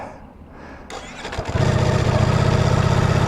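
A brand new Ducati Streetfighter V4 Lamborghini edition motorcycle starts up: a quiet stretch, a whirring crank, then the engine catches into a loud, close, throbbing idle that fills the rest of the clip.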